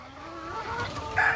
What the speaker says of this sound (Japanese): ハワイにいる野生のニワトリのこのナッツちゃんみたいな子は体が小さいし